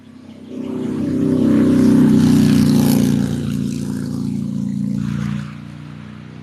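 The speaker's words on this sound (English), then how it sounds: "Not the motorcycle or whatever the hell that is." A motorcycle passes outdoors, its engine swelling into a steady, fairly loud droning rumble, holding for a few seconds, then easing off and fading away with no one talking.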